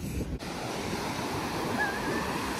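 Atlantic surf breaking on a sandy Long Island beach in late October, a continuous roaring wash of waves with wind buffeting the microphone, close and steady.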